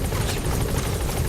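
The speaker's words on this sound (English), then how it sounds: "Get him out by chopper." Helicopter arriving for an extraction in Metal Gear Solid V, a loud steady rotor roar with rapid blade chop filling the scene, close and continuous, with no voices.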